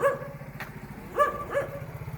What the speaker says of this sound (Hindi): भौंक भौंक जितना भौंक सकता है तू